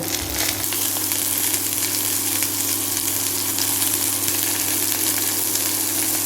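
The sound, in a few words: vegetables sizzling in hot oil with tempering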